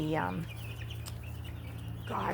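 Chickens cluck close by, a brief squawk at the start and another at the end over a low steady mechanical hum.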